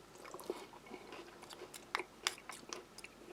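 Close-up chewing of crunchy, unsalted wheat crackers mixed with MRE applesauce, irregular crisp crunches and bites rising and falling over a few seconds without talk.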